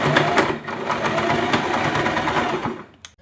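Sewing machine running a reverse stitch on a plain blouse, a loud close continuous rapid chatter of the needle for about three seconds before slowing and stopping with a small click.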